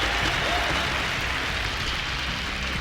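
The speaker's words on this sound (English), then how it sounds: "And the crowd is loving it." A crowd cheering and applauding in an esports arena at a Counter-Strike match between FaZe and Astralis at BLAST Pro Series Copenhagen 2018, heard as a dense, steady roar that fills the whole short stretch.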